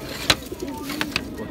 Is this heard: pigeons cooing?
yes